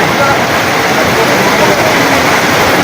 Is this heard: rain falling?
yes